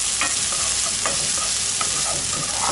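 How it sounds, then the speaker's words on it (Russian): Chopped onion frying in a pan and being stirred gives a steady, close, loud sizzle, broken by occasional scraping stir strokes, with no talking. "Обжариваем. Говорят, пассируем"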